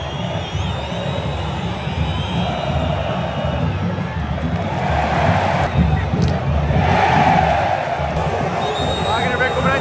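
A football stadium crowd at Vila Belmiro roars steadily during Santos versus Corinthians, a dense, distant wash of cheering that swells slightly, with a nearby voice talking over it.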